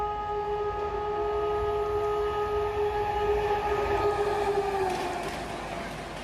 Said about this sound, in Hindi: लेकिन रफ्तार दबा के आ रही है और ज़्यादातर ट्रेनें आ भी उधर से ही रही हैं